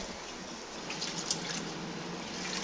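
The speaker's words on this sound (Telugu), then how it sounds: "ఇట్లా కడిగేసి అవి వాటర్ పారబోసేయాలన్నమాట" Water running and splashing steadily from a tap into a sink as lentils for pappu charu are rinsed and the rinse water drained, a continuous wet hiss at close range with no talking.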